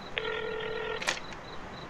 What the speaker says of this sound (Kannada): ರಿಂಗ್ ಆಗ್ತಾ ಇದೆ, ನೋಡೋಣ ತಡಿ